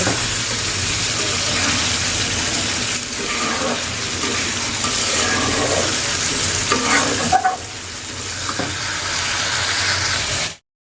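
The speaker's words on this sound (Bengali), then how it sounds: "চালটা সুন্দর করে ভেজে নিচ্ছি ভাজলেই বেশি স্বাদ লাগে" Rice frying in a pan for khichuri, a steady loud sizzle with scraping stirs running for about ten seconds before it cuts off abruptly.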